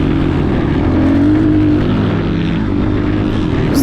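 Motocross dirt bike with a new exhaust held on the throttle in third gear around a dirt track, a loud, continuous engine drone that stays close.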